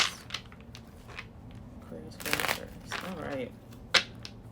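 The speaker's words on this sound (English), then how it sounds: "Let's do a couple more shuffles." Tarot cards are shuffled close by with soft riffling and flicking bursts, a few quick sharp snaps between them, and some quiet talk underneath.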